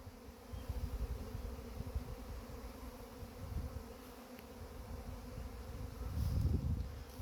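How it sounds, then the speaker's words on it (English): A honeybee swarm pours out of a hive, making a continuous, close, dense buzzing drone. It swells louder toward the end, with no talking. "Looks like we have a swarm."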